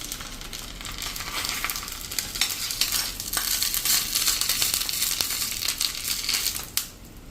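Garlic drops into a pan of frying masala, giving a dense crackling sizzle with scraping and crushing textures and a clatter near the end, with no voices.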